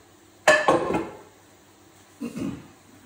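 A metal pan clanks as it is lifted and shifted on the stove, followed by a softer scrape a moment later.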